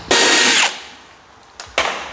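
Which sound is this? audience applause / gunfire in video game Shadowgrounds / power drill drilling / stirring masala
power drill drilling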